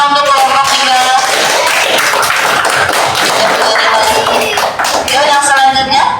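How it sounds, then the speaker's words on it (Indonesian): A classroom of students claps for a student group, loud and close, with fairly sustained clapping and voices mixed in throughout. "Tepuk tangan untuk kelompok 3."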